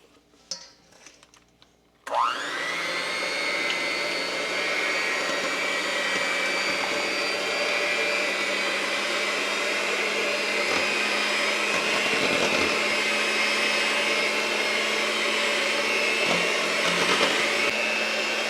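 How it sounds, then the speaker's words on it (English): A hand mixer whips a dessert mixture toward steady peaks, a loud continuous whirring drone that starts abruptly after a quiet moment and holds steady with slight wobbles. "I'm going to take my hand mixer and I'm just going to be mixing it until you have steady peaks forming throughout"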